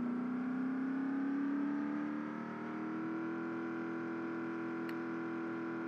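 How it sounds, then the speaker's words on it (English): A van's engine labors in the game Project Zomboid, a steady droning hum whose pitch rises slightly then levels off, sounding strained and continuous with no voices over it. "And this car sounds like it's struggling."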